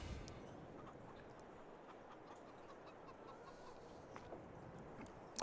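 Chickens in the Farming Simulator 22 video game, faint scattered clucks over a steady low farmyard ambience, fairly distant and quiet throughout.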